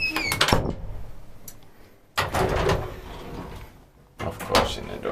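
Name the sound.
old Titan traction elevator doors operating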